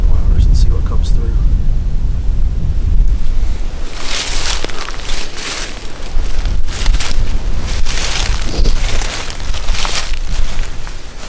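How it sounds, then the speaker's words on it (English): Powerful wind buffets the microphone in loud, rumbling gusts, roaring unevenly for the whole stretch with a harsh, rushing texture, outdoors in mid-November in Missouri. "it's really windy today, as you can tell"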